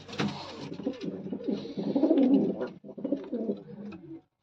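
Several racing pigeons coo in soft, overlapping rolling calls, fairly close, with a steady murmur of cooing throughout and no talking.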